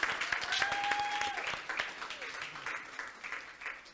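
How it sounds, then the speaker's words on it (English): A small crowd at an outdoor school event in Ghana claps in a round of applause, a faint, distant patter with a brief whistle-like cheer early on. "A round of applause"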